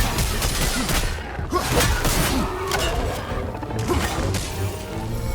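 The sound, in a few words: explosion in video game God of War Ragnarök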